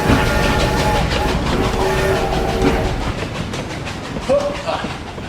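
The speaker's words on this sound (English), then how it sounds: "Perhaps we'll get a message from the mail train. In fact, here it comes now." A mail train rumbles and clatters steadily nearby, rolling in with a continuous heavy rush.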